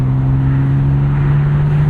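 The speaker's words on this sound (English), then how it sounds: "Man, is that just a sweet, sweet inline six in this car." A 1999 BMW M Roadster's inline-six drones steadily at constant revs while driving, a loud close engine hum with road noise beneath and no speech.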